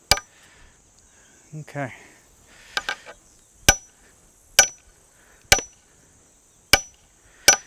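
Hammer blows drive a steel brace pin into a drilled hole in a wooden field-fence brace post: five sharp, evenly spaced metallic strikes, close and loud, with a brief spoken word and light outdoor insect hum between blows.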